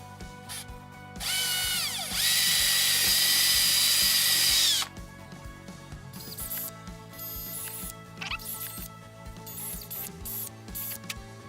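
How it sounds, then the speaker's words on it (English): A power drill with a 5/32 bit bores mounting holes in a Hobie Guardian kayak's plate, running in one loud, steady burst of about two and a half seconds, then falling to quieter handling and ratcheting noises. "I'm going to go in with a 532 bit and drill my mounting holes here."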